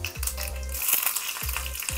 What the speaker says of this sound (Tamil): ஸோ எண்ணெய் சூடாகிடுச்சு, கடுகு போட்டாச்சு.